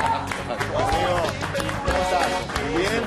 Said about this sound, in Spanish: Le damos fuerte el aplauso